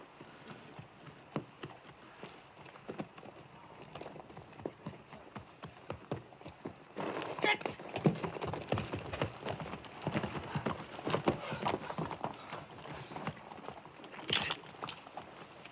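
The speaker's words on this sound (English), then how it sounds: "Get them horses under cover." Horses in a Western film clop along at a distance in a steady, uneven patter of hooves that grows louder and busier midway, with no talking over it.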